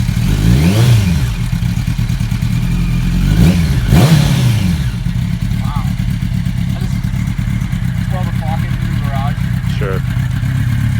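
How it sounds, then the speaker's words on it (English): A Ducati 959 Panigale motorcycle engine idling loudly nearby and revving twice in quick bursts, then settling into a steady rumbling idle. "why don't you turn it on and get on it?"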